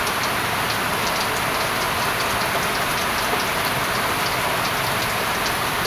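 Steady heavy rain drumming on a hut roof full of holes, a dense continuous hiss with no pauses and no talk.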